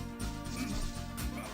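A dog in a Marvel vs Capcom arcade fighting game gives a few short, yipping barks close up, over game sounds, with no talk heard.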